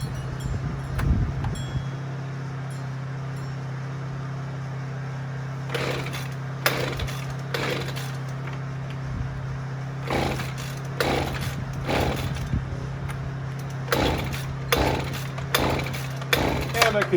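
A small gas engine is pull-started over and over without catching: repeated raspy rope pulls in uneven clusters over a steady low hum and wind, with a voice speaking now and then.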